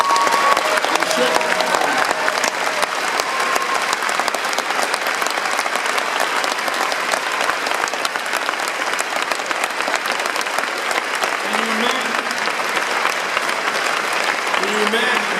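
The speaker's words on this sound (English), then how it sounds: "We should clap for those young people" Sustained audience applause fills the hall at the Netroots Nation 2014 political convention, a dense, steady roar of many hands clapping with faint voices mixed in, continuing evenly for the whole stretch.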